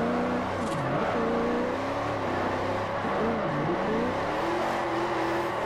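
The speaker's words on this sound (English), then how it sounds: "That was a lazy drift." A car in a drifting game revs hard through a slide, the engine note swooping up and down over a constant wash of tire and road noise, loud and unbroken.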